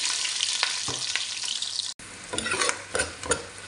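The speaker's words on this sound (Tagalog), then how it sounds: "Igisa na nga po natin yung sibuyas." Onion sautéing in oil in a pan, a close bright sizzle with scraping stirs, briefly cut off midway before the frying hiss and stirring resume.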